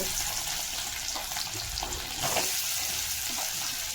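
Potatoes hitting hot oil with an asafoetida tempering in a pan, a dense close sizzle and crackle with occasional stirring scrapes, steady throughout without speech.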